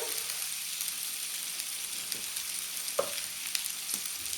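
Tomato paste going into a frying fish curry in a pan, with a constant hiss of frying and a few scattered soft stirring knocks, the clearest one in the latter half.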